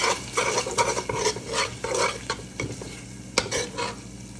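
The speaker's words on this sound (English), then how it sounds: "I'm gonna add my tomato paste in. Get that into the mix." Tomato paste being stirred into a frying pan, a close, rhythmic scraping of a utensil through thick paste against the pan over a soft sizzle, with an occasional sharp tap.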